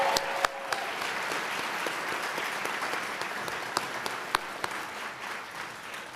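A university audience at a spring leadership awards ceremony applauds, with steady dense clapping from a large crowd and a few sharper claps standing out.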